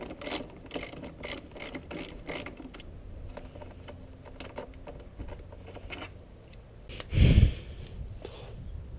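A ratchet works a 10mm bolt under the fuel tank of a 1979 Yamaha YZ400 motorcycle, giving rapid close clicking pawl strokes in bursts, then a brief louder clunk near the end.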